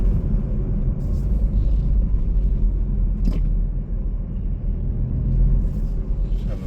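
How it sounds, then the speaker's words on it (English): Inside a Jeep Avenger cabin on the road in Mallorca, a steady low rumble of road and engine noise mixes with a broad wash of wind noise from the sunroof, continuous and even throughout. "The sunroof does add some wind noise."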